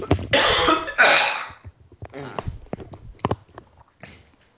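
A voice imitates coughing up a hairball: two rough, hacking bursts up close, followed by scattered gagging clicks, throat noises and softer sputters.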